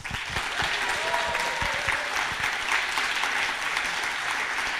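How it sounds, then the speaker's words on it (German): Crowd applauding at a poetry slam featuring Bochum parliamentary candidates, a loud, sustained roar of many hands clapping together, even and continuous from start to finish. "spendet ihr einen eskalativen 10-Punkte-Applaus"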